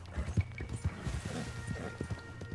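Horse hooves in the Red Dead video game clip-clopping in an irregular run of soft, fairly close thuds over faint background rumble, with no speech.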